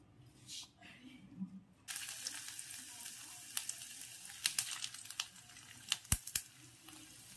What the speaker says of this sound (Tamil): இப்போ ஃபஸ்ட்டு தாளிக்கலாம் வாங்க.